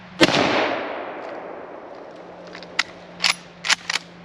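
A Remington-built M1891 Mosin rifle fires at an outdoor range: one sharp, loud shot with a long fading tail, followed by several faint, quick metallic clicks from handling the rifle.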